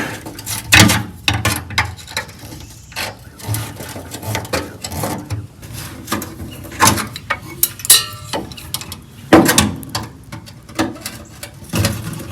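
Screws being taken out near the starter solenoid of a barn-find VW Beetle: close, irregular metallic clicks, taps and ratcheting clatter in uneven bursts, with no talk.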